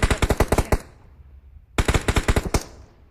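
Rapid gunfire in the mobile battle royale game PUBG Mobile, two loud bursts of about eight sharp shots each separated by a short pause, close and with no talking.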